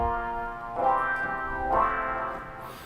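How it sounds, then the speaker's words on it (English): Electric guitar in a contemporary gospel rock beat, run through a wah effect from a mixer preset, sustained distorted chords with two sweeping vowel-like swells, loud and up front with no voices. "So the Easy Mix gave it that wah sound."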